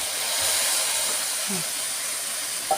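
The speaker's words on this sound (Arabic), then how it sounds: "ننزل بالكبده كده مع البهارات كلها اللي احنا حاطينها، والورق اللوري ومرقه الدجاج" Liver fries in a pan with spices, bay leaves and chicken stock, giving a steady, close, hissing sizzle with a faint scrape near the end.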